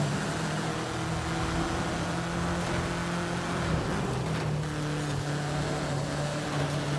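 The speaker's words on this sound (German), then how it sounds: "Oh, da fährt einmal ein KTM mit." A KTM car drives alongside at night in Forza Horizon 5, its steady engine drone holding a constant tone with slight pitch shifts, loud and continuous throughout.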